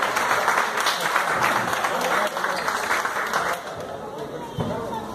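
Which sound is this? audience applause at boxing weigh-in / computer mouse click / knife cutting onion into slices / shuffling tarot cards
audience applause at boxing weigh-in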